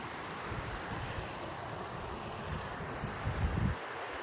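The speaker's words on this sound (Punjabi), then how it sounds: "ਘੱਗਰ ਨਦੀ ਦਾ ਪਾਣੀ ਕਿਵੇਂ ਜਾਂਦਾ ਈ ਸ਼ਾਂ ਸ਼ਾਂ ਕਰਦਾ" Steady broadband rushing of the Ghaggar River in Haryana, a constant low roar with a few louder surges near the end, no voices.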